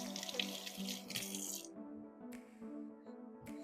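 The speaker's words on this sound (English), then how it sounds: "You just wash the sticky off my hands." Tap water running over hands as sticky dough is washed off at a kitchen sink, a close, steady splashing rush that stops abruptly partway through, followed by a few faint drips and clinks.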